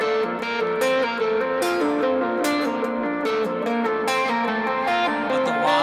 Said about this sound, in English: add in one of my overdrive pedals and it starts to sound like this.